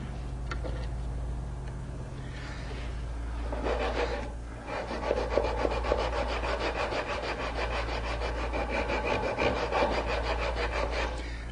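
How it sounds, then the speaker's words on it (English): A small sanding block with 80-grit paper scrubs bandsaw marks off a flat wooden bench board, rapid rhythmic rasping strokes, close and steady, over a low background hum. "I've just got a little block with that 80 and I'm just cleaning up the flat area here, the bandsaw marks"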